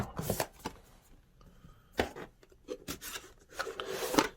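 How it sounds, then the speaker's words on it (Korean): Packaged case for an ODYSSEY board being unboxed and handled: close, intermittent rubbing, rustling and scraping bursts with brief pauses, no talking. "그러면 저희 케이스 준비된 것도 언박싱 해보겠습니다"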